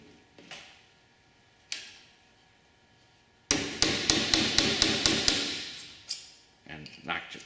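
Hammering out soft aluminum rivets: a few isolated taps, then a rapid burst of about ten sharp metallic blows in quick even rhythm, followed by scattered lighter knocks, close and crisp.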